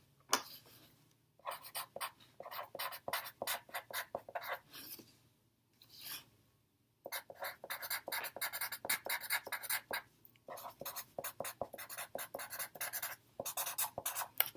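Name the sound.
students writing opinions on paper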